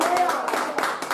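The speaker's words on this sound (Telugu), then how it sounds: "ఒకసారి చప్పట్లు కొట్టండి" A church congregation claps together during a sermon, a short burst of fairly close, rhythmic hand claps lasting about a second.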